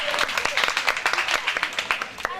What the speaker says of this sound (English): Just clap yourselves once again.